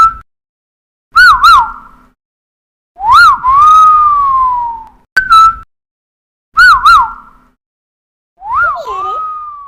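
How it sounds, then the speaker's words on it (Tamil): A person whistles from close behind, a series of loud two-tone wolf whistles with rising and falling pitch sweeps, in several separate bursts with short silent gaps between them. "யாரு ஏன் பின்னாடி நின்றுட்டு விசில் அடிக்காவ?"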